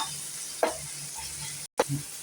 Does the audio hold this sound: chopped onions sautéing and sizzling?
yes